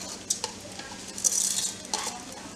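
Three cups of washed rice go into a rice cooker pot: a few sharp clinks, then a brief grainy rush as the rice pours in, with more light knocks after.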